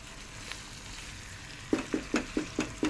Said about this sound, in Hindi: अच्छे तरीके से हमने प्याज के अंदर कीमे की बुनाई करनी है।